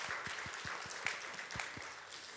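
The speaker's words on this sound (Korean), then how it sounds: "우리 축하한다고 박수로 축하하겠습니다" A church congregation claps faintly and briefly, with a steady, rhythmic beat of soft hand claps under a diffuse room wash.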